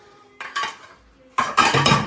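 Metal dishes and utensils clatter and clink while being handled during a household move, several close, loud bursts of rattling with short pauses between them.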